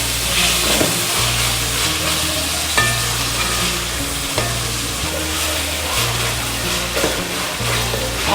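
Onions and tomatoes fry for a mushroom curry, a constant loud sizzle with a spoon stirring and scraping the pan at a steady rhythm and a few sharp clicks.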